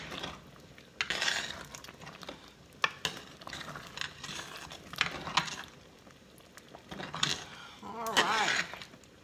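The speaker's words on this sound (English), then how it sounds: "Whoops, oh Lord, the thing is spinning. My pot is spinning." A pot of meatless pea stew spins and scrapes on a stovetop, giving uneven metallic clatters and rattles in several bursts over a low kitchen background.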